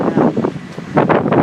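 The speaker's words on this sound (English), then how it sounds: "it is windy here" Strong wind gusts buffet the microphone beside Galway Bay during a run, a loud, rough rumble that swells in two surges with a short lull between, with no talk.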